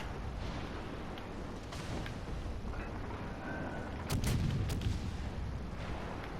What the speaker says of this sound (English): we might as well try and open fire.